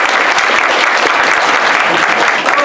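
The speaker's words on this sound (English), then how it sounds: "Give Tommy a round of applause." An audience applauds an improv comedy performer at a live show, a steady burst of close, dense clapping that fills the whole moment without talk.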